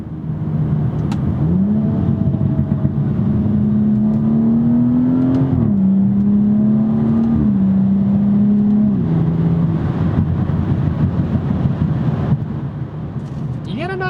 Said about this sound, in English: Downshifts are nice and snappy.